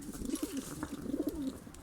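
Turkish arkatepe pigeons coo in soft, repeated low rolling calls, several overlapping phrases close by against a faint background hiss.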